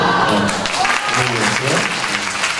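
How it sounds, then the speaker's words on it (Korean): A church youth gathering bursts into dense, loud applause for members of a congregation, clapping filling the whole stretch with voices mixed in. "박수."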